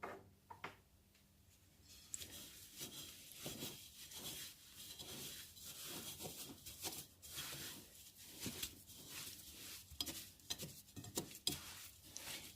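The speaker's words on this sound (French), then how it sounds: "Je commence par le fouet, mais je le ferai à la main." Christmas sablé dough being whisked by hand in a bowl: a steady run of quick, soft, close scraping and tapping strokes, fairly quiet, with no talking.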